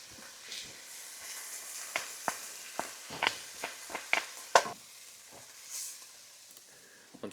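Onions and garlic sizzle in rendered bacon fat in a pan, a faint steady hiss dotted with quick crackles and pops, with no talking.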